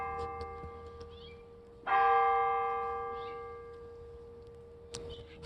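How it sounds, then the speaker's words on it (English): Church bell at Immanuel Episcopal Church in historic New Castle, Delaware, striking four o'clock: a single clear, ringing strike with a long fading hum, then another faint strike at the end, heard from nearby outdoors. "Four bells."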